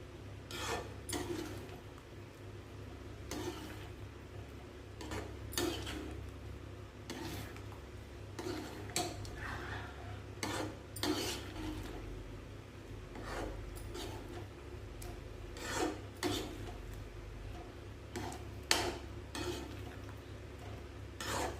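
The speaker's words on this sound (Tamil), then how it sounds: "கிண்டிகிட்டே இருக்கணும், இல்லைன்னா அடி பிடிக்கும்." A spoon scrapes steadily around a pan of thick bun halwa cooked with milk, giving repeated rasping strokes in an even rhythm, close by, over a low background hum with no talking.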